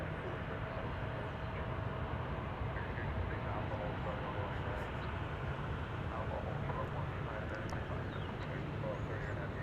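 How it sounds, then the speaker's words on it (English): A Delta Airlines Airbus A320 arriving at Dallas Fort Worth airport, heard as a faint, steady broadband engine roar that holds evenly throughout, distant rather than close. "Another Airbus arrival from Delta Airlines. Looks like an A320 from my eyes point of view."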